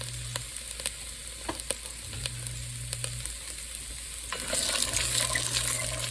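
Mirepoix vegetables gently sweating in a pot for chicken soup, a soft low sizzle with occasional stirring taps, swelling a little louder near the end, no talking.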